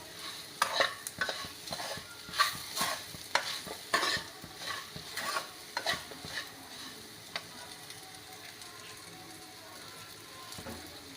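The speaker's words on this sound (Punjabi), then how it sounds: "ਨਮਕ ਦੇਗੀ ਮਿਰਚ ਤੇ ਚੀਨੀ ਨੂੰ ਮਿਕਸ ਕਰ ਦਾਂ" Spoon stirring salt, red chili powder and sugar into a tomato chutney masala in a pan, with a steady run of close scraping and clicking strokes, louder at first and then easing, with no talking.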